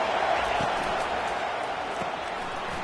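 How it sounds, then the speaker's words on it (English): A stadium crowd at an American football game roars to back its defense. The noise is a dense, continuous wash that fades slightly over a few seconds, with some voices faintly audible within it. "Listen to this crowd just shaking the girders of this place"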